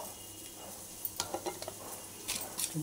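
Spoonfuls of turmeric, chilli powder, tomato paste and garlic paste being worked into sliced okra, a quiet background hiss broken by a few soft, close scraping and stirring strokes in the middle and again near the end.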